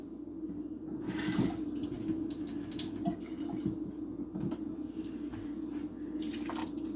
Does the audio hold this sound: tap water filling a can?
yes